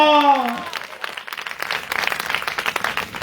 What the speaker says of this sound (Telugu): గట్టిగా చప్పట్లు కొట్టి ప్రభునిస్తుందా?